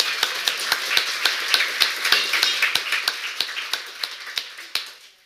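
An audience applauds a speaker after a presentation at a talk event: a steady patter of sharp, close claps that carries on for several seconds before fading out at the end.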